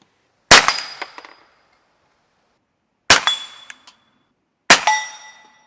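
Three suppressed shots from a CZ P-09c pistol fitted with an AB F4 suppressor, each followed by a bright metallic clang of a small steel plate target, spaced a few seconds apart and loud, with no talk.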